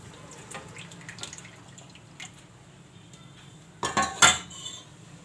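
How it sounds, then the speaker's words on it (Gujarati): Yogurt goes into a pan for Kathiyawadi dahi tikhari with the gas switched off: a quiet kitchen, then a brief cluster of spoon clinks and scrapes against the metal pan near the end. "હવે આપણે દહીં નાખી દેવું।"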